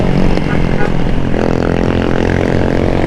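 A brand new Honda Rebel 250cc special edition motorcycle engine running loud and close, a dense steady drone with a shift in pitch partway through.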